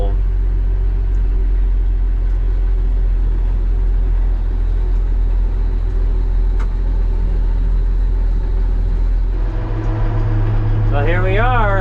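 A UniSystem corn picker engine runs at a steady low idle rumble, close and continuous, with a brief change in pitch near the end as gears shift.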